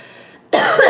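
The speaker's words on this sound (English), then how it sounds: "I'm sorry that I'm coughing like a maniac." A single harsh cough bursts out loud and close after a brief quiet moment, rough and breathy.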